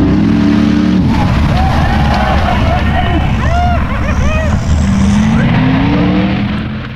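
A 600-horsepower formula offroad car struggles in swamp mud at an Icelandic competition, its engine roaring loudly with rising and falling revs and whining tones over a crowd's babble.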